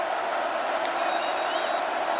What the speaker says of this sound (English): And now the crowd's getting louder.